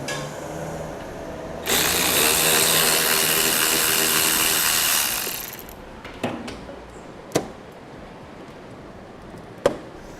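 A 7mm-headed bolt comes out of the wheel well of a 2011 Chevrolet HHR: a loud, steady mechanical whirr runs for about three and a half seconds, then a few sharp separate clicks follow in a quiet space.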